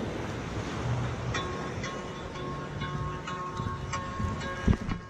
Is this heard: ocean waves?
yes